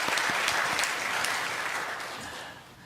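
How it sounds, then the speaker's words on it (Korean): A church congregation at Sunday worship claps warmly to honour its elders, a full burst of applause that gradually thins and fades over a few seconds. "한번 뜨거운 박수로 좀 어른들을 섬겨드리면 좋겠습니다"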